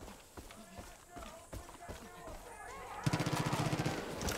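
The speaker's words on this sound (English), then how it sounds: "I can hear gunfire close by." Gunfire rings out close by in Far Cry 5 amid a fight with cultists, starting as scattered footsteps and sparse shots under talk, then erupting into a rapid, loud automatic burst of repeated cracks.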